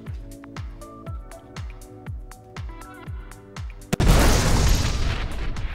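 In a naval combat video game, a missile strikes a ship with a loud, sudden blast and roaring crackle, after a run of rhythmic booming impacts and pops.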